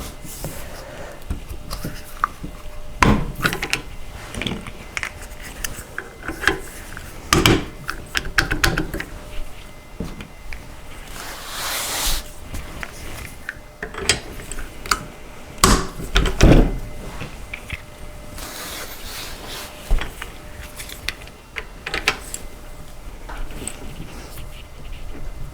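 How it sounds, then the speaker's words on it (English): Plastic wheels of a Badger Basket Empress round baby bassinet are tapped and pushed into their sockets during assembly, giving a series of sharp knocks and clicks scattered irregularly over a quiet room. "Just kind of softly tap them down until they click into place."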